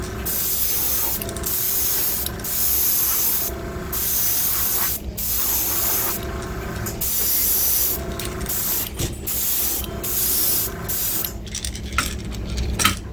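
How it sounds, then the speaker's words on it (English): Color shift paint sprays onto a wooden fishing lure (Wiggle Wart style) in a series of loud airbrush-like hissing bursts, each a second or two long, separated by short pauses. "And I'll coat the whole thing in color shift."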